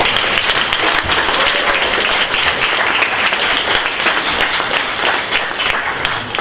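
A room full of people gives sustained, loud applause for a children's hackathon team at Hack Jr 2017, dense clapping holding steady throughout with no break.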